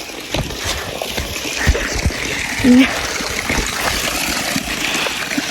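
Water from a spring-fed school tap trickles and splashes continuously, with a few louder splatters, while people talk nearby.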